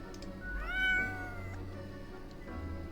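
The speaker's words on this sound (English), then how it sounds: "The cat replies absent-mindedly." A single cat meows once, a clear rising-then-falling cry of about a second, close and moderately loud over a quiet, low hum.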